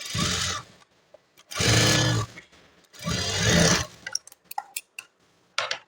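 A sewing machine stitches a blouse in three loud, close bursts of fast mechanical whirring separated by short pauses, followed by scattered clicks and taps as the fabric is handled.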